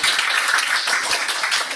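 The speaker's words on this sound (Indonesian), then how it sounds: "Beri tepuk tangan dong." An audience applauds at a product presentation: a brief, dense burst of many hands clapping, steady and fairly loud, lasting under two seconds.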